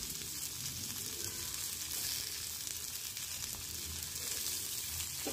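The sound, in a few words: frying bitter gourd, potatoes and stems in a pan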